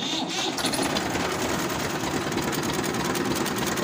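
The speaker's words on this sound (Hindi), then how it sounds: "ट्रैक्टर को स्टार्ट करते हैं" A tractor engine already running at a steady idle, a dense, even mechanical chatter close by with no clear start-up surge.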